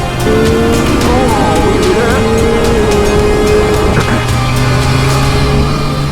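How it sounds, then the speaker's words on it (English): A 2023 Triumph Street Triple 765 RS motorcycle engine revs hard and loud as the rider lifts into a wheelie, a steady continuous roar with pitch sweeping up and shifting, close to the listener. "Oh, that's a cheeky little wheelie."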